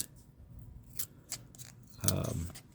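A paper-wrapped roll of 1970-S Lincoln cents is cracked open, giving a short crisp crackle and tear of paper near the end, close and fairly quiet amid faint rustling.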